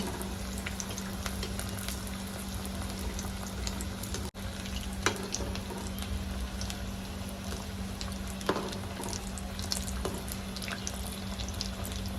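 Cheese corn balls deep-fry in hot oil, a steady, dense bubbling sizzle that runs throughout at moderate volume, with a couple of faint clicks and stirring touches.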